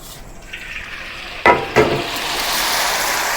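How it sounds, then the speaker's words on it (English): Rice vermicelli dropped into hot oil bursts into two sharp crackling pops, then a loud, steady sizzle and hiss of frying fills the rest, close up with no talking. "Now I'm going to put all the rice vermicelli into the oil"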